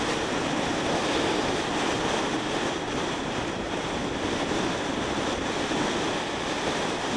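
A crosswind funneled through canyons rushes as a continuous, even roar buffeting the microphone, loud and unbroken throughout.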